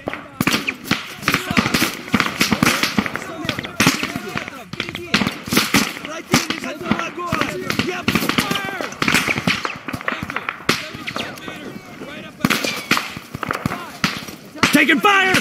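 Rapid gunfire crackles through an Arma 3 video game battle between German Bundeswehr and Russian Spetsnaz AI squads, with dense bursts and single shots near and far, under shouted voices calling out commands.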